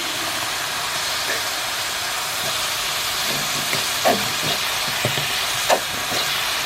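Passata poured onto browned mince in a hot pan on a home cooker, giving a steady broadband hiss and sizzle throughout, with a few brief louder spits and clinks rising above the constant frying noise.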